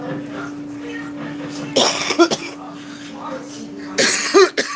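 Two loud bursts of coughing after a person hits a vape stand out over a steady background hum and murmur, the second fit harsher and longer than the first.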